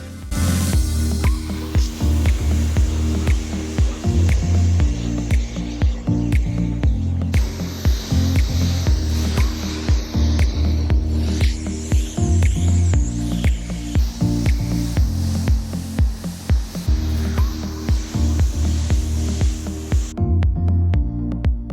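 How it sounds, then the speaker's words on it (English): Clean water sprayed over a VW California camper van during a rinse: a steady, loud, hissing pressurised spray running continuously at close range, its tone shifting slightly as the jet moves across the bodywork. "Just need to give it a quick blast with clean water to rinse off"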